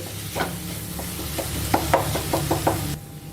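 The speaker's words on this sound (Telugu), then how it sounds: "వీటిని కూడా ఒక రెండు నిమిషాలు ఫ్రై చేసేసుకోవాలి" Chopped tomatoes fry with ginger garlic paste in a pan for egg curry, a steady close sizzle broken by a run of light spoon knocks and scrapes as they are stirred, with no voices.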